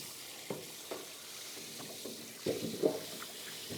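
Freshly harvested sweet potatoes are rinsed under running water, a steady splashing hiss broken by occasional soft knocks and thumps of the roots shifting.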